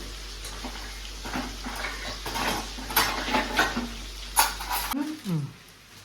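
Onions and spices are sautéed in a pan for a country-chicken curry, with a soft sizzle and scraping, stirring clatter of a utensil against the pan, while someone talks over it.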